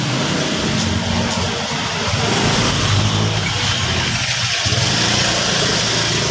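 A motorcycle passes through a narrow alley, its engine a steady, loud, broadband rumble that fills the whole stretch without pause.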